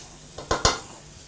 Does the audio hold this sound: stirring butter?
yes